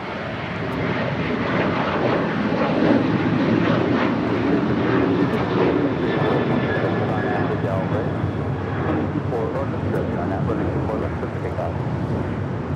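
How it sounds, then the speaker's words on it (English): A United Boeing 737-900ER departs Los Angeles International Airport for Chicago, a loud, sustained engine roar peaking early and easing slowly, with voices faintly present underneath. "That is United 1617 departing to Chicago on a 737-900ER."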